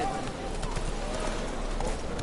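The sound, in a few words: horse Roach's hooves in a video game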